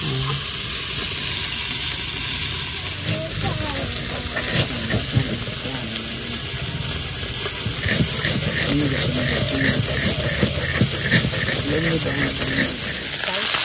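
Small fish frying in oil in a home kitchen, a continuous bubbling sizzle with intermittent clatter, while someone speaks over it at intervals.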